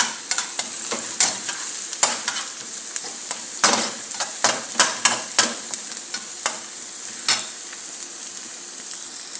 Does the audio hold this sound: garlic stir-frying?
yes